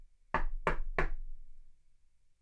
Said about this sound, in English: Should we knock right now and see if we get a knock back?